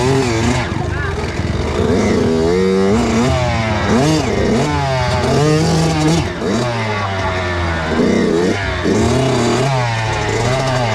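A Kawasaki KX85 dirt bike engine revs hard through mud on a trail at Hambalang, a loud, continuous wavering roar that climbs and falls in pitch, with people shouting over it.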